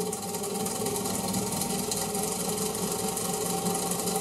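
A MAXNC mini mill spins up on 3D printed pulleys, giving a steady, close, continuous mechanical whir with a rattling, out-of-balance vibration throughout.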